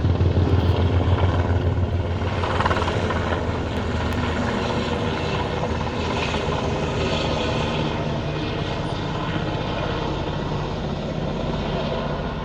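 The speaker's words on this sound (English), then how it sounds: "the helicopters are constantly flying around here" Border patrol helicopter near the US–Mexico border, a steady loud rotor and engine drone that holds throughout with a slight pulsing beat, no talking heard.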